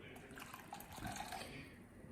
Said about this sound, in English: So we're gonna add the half cup of hot water